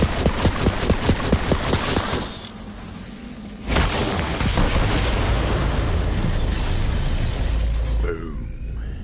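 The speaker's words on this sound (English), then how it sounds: "The explosion echoed through the forest" A loud, sustained explosive rumble with crackling debris echoing through a forest, dropping briefly before a second blast surges and roars on, dense and booming.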